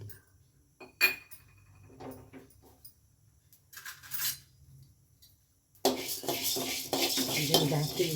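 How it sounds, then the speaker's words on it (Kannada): Coriander seeds are dry roasted in a pan: sparse utensil clinks and taps at first, then a sudden continuous rattling, hissing rush for the final few seconds, close by. "ಬಾಣಲಿಗಳಿಗೆ ಧನ್ಯ ಹಾಕೋಣ."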